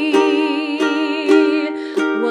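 Ukulele strummed in steady down strokes through the chords of a song from The Greatest Showman: a few bright, even strums ringing close and clear, with no voice over them.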